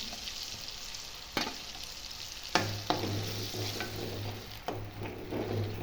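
A coconut and garlic paste fries in a pan, with a soft continuous sizzle broken by a few distinct scrapes of a spoon stirring it. The sound is fairly quiet and close, with no talking.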